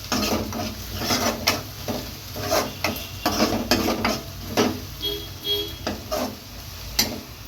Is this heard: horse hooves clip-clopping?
no